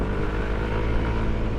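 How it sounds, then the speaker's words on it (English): Scooters riding past on a narrow, winding road in Taiwan, a steady engine drone and rumble from nearby small motors, with no talk. "everybody that just rode by us on those scooters"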